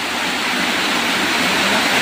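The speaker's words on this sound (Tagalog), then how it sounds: "maririnig niyo po mga kababayan yung patak ng ulan dito sa bubong" Heavy rain pours down in a dense, steady roar, drumming hard on a house roof with no letup and no voices.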